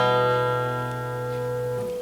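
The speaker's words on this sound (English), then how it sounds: "A hammer-on sounds like this." Single guitar string sounded by a hammer-on, a clear sustained note ringing steadily for about two seconds before a quick new attack at the very end.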